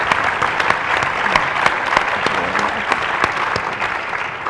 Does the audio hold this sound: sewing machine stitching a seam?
no